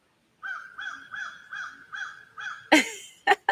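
Outdoors a crow caws in a quick run of six evenly spaced calls, then gives a few harsher, louder caws after a short pause, clear and fairly close.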